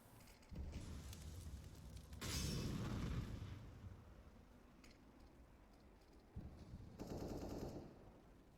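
AK rifles fire in a Counter-Strike: Global Offensive tournament match, with quiet rattling bursts of automatic gunfire in several separate volleys and softer game sounds in between.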